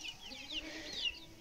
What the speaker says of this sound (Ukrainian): В основному самі півні ті легорні.